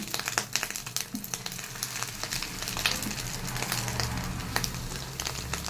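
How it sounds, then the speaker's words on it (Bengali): Small pieces of gram flour and chopped onion fritter batter drop into hot oil, giving a soft, steady sizzle with scattered faint crackles and pops close by. "ছোটো ছোটো করে বড়ার পিসগুলো দিয়ে দিচ্ছি।"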